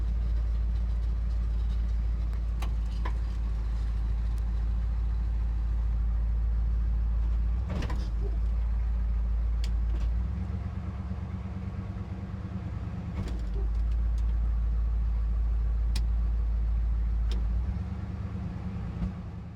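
Old square body truck, a one-year-only model revived after sitting for over a decade, with its engine running in a heavy, rough low rumble while driving, and occasional clunks and rattles over the drone.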